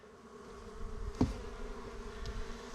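Honey bees buzz close by during a spring hive inspection, a steady droning hum that swells slightly midway.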